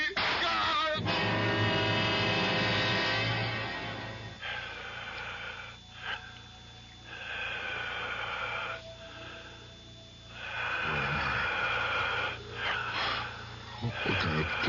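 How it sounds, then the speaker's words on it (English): Eerie, heavy breathing fills a room: slow, rasping inhales and exhales with sniffs and wheezy gasps, loud and close, swelling and fading in long waves. "It sounds like the whole room is breathing."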